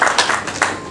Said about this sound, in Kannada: ಎಲ್ಲ ಜೋರಾದ ಚಪ್ಪಾಳೆ ಕಟ್ಟಬೇಕು